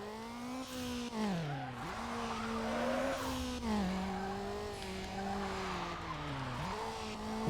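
A Mazda Miata racing in Need for Speed: Underground, its engine droning steadily with pitch rising and dipping through gear changes, and tires squealing through corners, with no voices.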